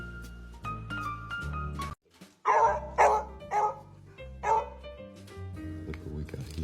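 A dog barks in a short close burst of several sharp woofs, with quieter music playing underneath before and after.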